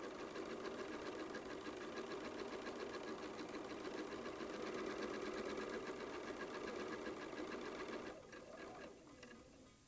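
Sewing machine chain stitching quilt pieces with a quarter-inch seam, a steady close whirring hum running continuously, easing off slightly near the end.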